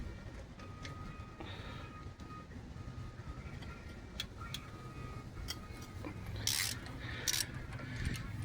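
A ratchet works on brake caliper bolts of a 2014 Dodge Ram 1500, heard as faint clicking and mechanical ticks over a steady hum of background noise, with a couple of brighter clacks near the end.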